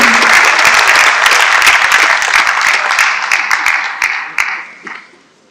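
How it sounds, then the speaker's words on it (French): Loud applause from an audience at a justice conference, thick and close at first, then thinning into scattered individual claps and fading out toward the end. "Vos applaudissements, s'il vous plaît."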